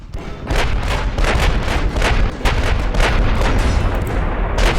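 Main battery guns of a warship firing in the naval game Ultimate Admiral Dreadnoughts, a rapid barrage of loud, heavy booms overlapping almost continuously, each blast rolling into the next.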